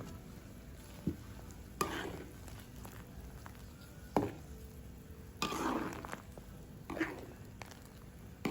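Tamarind, green chilies and curry leaves are stirred in a large pan for a big batch of martabak filling, with intermittent scraping and clanking strokes of the spoon over a low background, fairly quiet and spaced a second or two apart.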